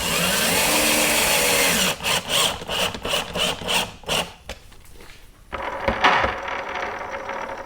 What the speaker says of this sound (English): I'm going to drill some pilots, and then I'm going to go ahead and set my screws in.